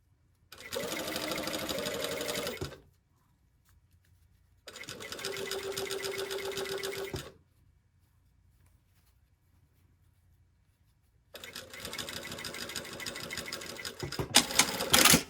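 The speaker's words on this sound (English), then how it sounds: "I'm basically sewing, I don't know, about 1/8 of an inch away from the edge, top stitching." Domestic sewing machine top stitching a lapped zipper close to the fabric edge: three close bursts of rapid, steady needle clatter, each a couple of seconds long, separated by silent pauses, with a faint click at the end.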